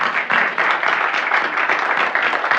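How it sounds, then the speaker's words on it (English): Sustained audience applause for panelists at a business event, dense steady clapping from a crowd throughout with no talk over it. "Please give them another round of applause."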